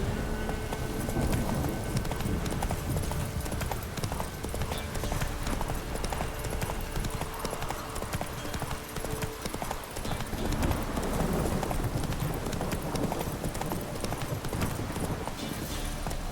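A horse gallops in The Witcher 3: Wild Hunt, dense continuous hoofbeats churning along over loud game ambience for the whole stretch, with no clear talking.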